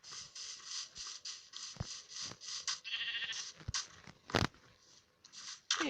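Sheep in the video game Minecraft bleat repeatedly in short, nasal calls, several close together, interrupted by a few sharp clicks and scratches at moderate loudness with no voices.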